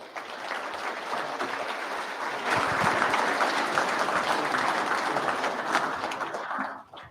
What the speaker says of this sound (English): Masi Cho, Willie Billette, let's give him another round of applause here to come up here and share his story with us.